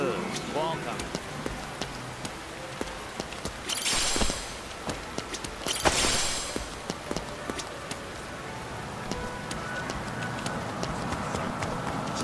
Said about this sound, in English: I like how the rain just comes down.